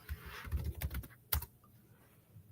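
Computer keyboard keys tapped as a search is typed, a quick irregular burst of close, quiet clicks followed by a single sharper keystroke, then stillness.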